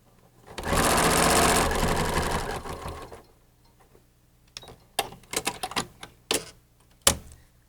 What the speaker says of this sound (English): we're going to sew all of these together